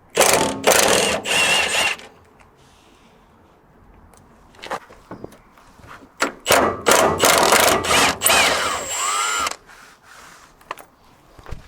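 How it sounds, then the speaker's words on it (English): Ratchet wrench loosening the subframe mount bolts on an MG TF, heard in close, loud bursts of rapid clicking separated by quieter pauses and a few metallic knocks. "I'm going to undo all but one of the bolts in all the mounts"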